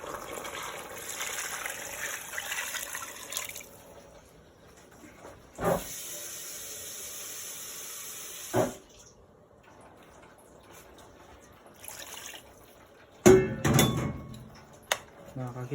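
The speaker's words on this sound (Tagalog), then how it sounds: "Tubig naman ang lalagay natin." Water poured into a cooking pot of pork neck bone batchoy, a steady hissing stream lasting a few seconds, followed by scattered clanks and splashy bursts in the kitchen.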